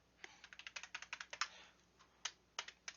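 Someone types on a computer keyboard while working in SketchUp, including the asterisk key: a quick run of about a dozen close, crisp key presses, then a few scattered taps in a quiet room.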